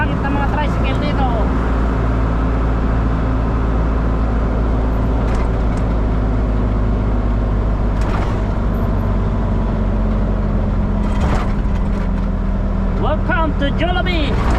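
Motorized tricycles and other traffic rumble past on a street in Tiaong, Quezon, a continuous loud engine drone with passing swells, and people talking over it at times.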